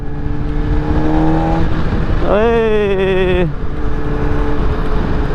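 A Honda CBR600RR sport bike's engine hums under steady wind rush while riding, then swells into a brief rising rev and eases back down; a short voice interjection comes through.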